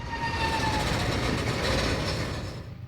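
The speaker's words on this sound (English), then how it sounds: "188 had to slow down as its locomotive neared the Guest Street yard," A Norfolk Southern freight locomotive slows as it nears a rail yard, a loud close rumble of rolling train wheels with a faint squeal, steady throughout before easing off at the end.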